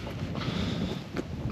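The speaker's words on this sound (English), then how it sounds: "it's not as windy as it feels down here" Wind gusts roar across an exposed hillside on the Roaches on an October day, a broad steady rush buffeting the microphone with no voices.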